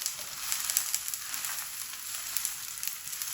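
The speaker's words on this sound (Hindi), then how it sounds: "अब मैं रोटी डाल दूंगी" Roti cooking on a hot pan gives off a gentle, even sizzle that holds steady and close, with faint crackles and no voices.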